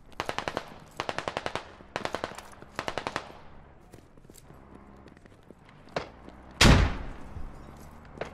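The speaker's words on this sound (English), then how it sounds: "I swear I heard M4 fire coming from here." Bursts of M4 rifle fire in a Squad-style military shooter game, four quick rhythmic volleys of rapid shots, followed by scattered footsteps and a single loud close blast near the end.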